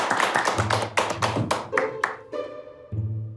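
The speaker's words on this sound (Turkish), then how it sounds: "alkışlarla uğurluyorum" A studio audience on a Turkish sitcom claps in a short burst of distinct, close hand claps that fade after about two seconds, and a brief musical sting follows.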